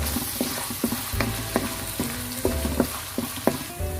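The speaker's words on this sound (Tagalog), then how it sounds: "We will add a little bit of oil. We'll put our" Garlic in hot oil in a pan for a mung bean dish, with steady sizzling and frying hiss near and clear, punctuated by repeated clinks and scrapes of a utensil stirring against the pan.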